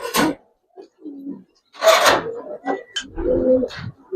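Silver Giribaz and coloring pigeons coo in short, irregular bursts, close and clear, mixed with a few rustling and scraping noises and pauses of quiet between calls.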